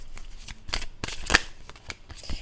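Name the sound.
shuffling Osho oracle cards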